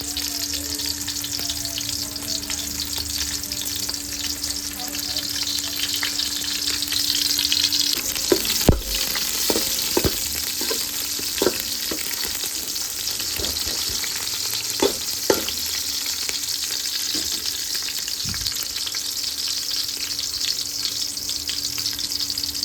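Chopped onions fry steadily in a pan for a village-style fish curry, a constant close sizzle broken by scattered clicks and scrapes of stirring, with no voices.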